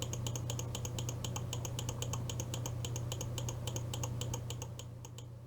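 Rapid, steady clicking of a keyboard or mouse while playing Geometry Dash, a rhythmic run of sharp close taps over a constant low hum, fading slightly at the end.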